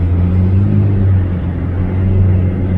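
An orange Lamborghini Murcielago with over 300,000 miles pulling away at the Swiss border: a loud, close, steady low engine rumble with no sharp revving.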